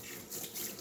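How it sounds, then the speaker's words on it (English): Tap water runs from a faucet into a sink while hands are washed, a steady close hiss of flowing water lasting under a second. "let me wash my hands"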